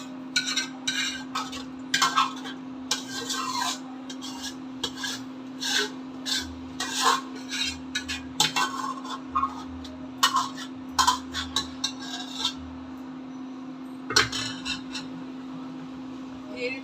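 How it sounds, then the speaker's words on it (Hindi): Dishes, pots and pans being washed by hand in a home kitchen: repeated rasping scrubs and rubbing strokes in irregular bursts, with occasional clinks, over a steady background hum. "अब करती हूँ मैं ये काम बर्तनों का, ये सारा"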